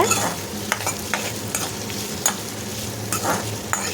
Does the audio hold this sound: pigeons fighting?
no